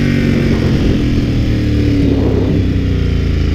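Steady, loud wind rush with engine drone while riding a 2014 Ducati Hypermotard at low speed on the road, continuous for the whole stretch with no voice over it.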